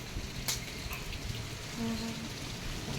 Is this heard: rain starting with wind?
yes